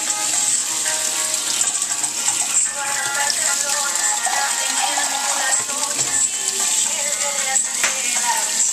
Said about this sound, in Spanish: Eso es agua.